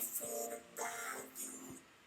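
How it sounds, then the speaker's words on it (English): Vocal run through Logic's vocoder, giving a robotic, buzzy, pitched tone in short syllable-like bursts with breathy hiss, heard alone over about two seconds. "So I just took the Logic one and basically routed the vocal into it, and it sounds like this."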